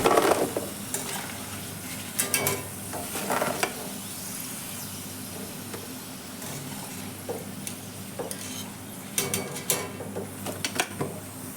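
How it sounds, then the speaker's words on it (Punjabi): Taro (arbi) pieces fry in hot oil in a kadhai, a steady close sizzle broken by repeated scraping and clinking of a spatula against the metal, no talk. "ਦੇਖੋ ਜੀ ਇੱਧਰ ਜਿਹੜਾ ਦੂਜਾ ਪੂਰ ਪਾਇਆ ਸੀ ਆਪਾਂ ਨੇ ਉਹ ਵੀ ਫਰਾਈ ਹੋ ਚੁੱਕਿਆ"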